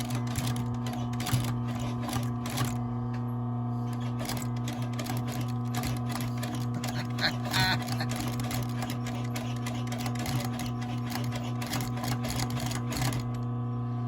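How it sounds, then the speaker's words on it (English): Hand-stitching an Alden Indy leather boot on a running machine, a steady mechanical whir with a strong low hum and rapid ticking clatter that continues throughout at close range. "One hand holding the camera, one hand stitching the boot."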